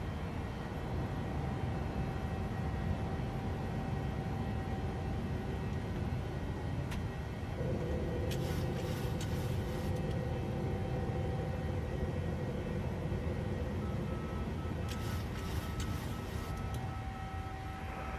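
A PMDG Boeing 737-800 in GOL livery climbs after takeoff in Microsoft Flight Simulator, its engines a steady, loud, broad roar with a constant whine, interrupted by a couple of brief higher bursts.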